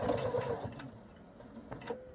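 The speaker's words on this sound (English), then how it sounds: "now we are going to stitch those ends down" A domestic sewing machine stitching down the elastic ends of a hospital face mask, a short quiet whirring run of stitches with small clicks, then a pause and a brief restart.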